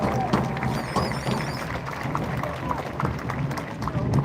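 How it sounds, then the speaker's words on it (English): Audience members applaud teachers at a ceremony, a steady wash of many hands clapping with crowd chatter mixed in, moderately loud and sustained from start to finish. "Give them a big round of applause."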